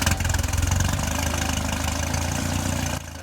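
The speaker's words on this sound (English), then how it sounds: "This is the day I bought the TR3, and Andrew's driving it home." A 1962 Triumph TR3A roadster's engine runs steadily with a loud, even low rumble throughout, dropping slightly in level near the end.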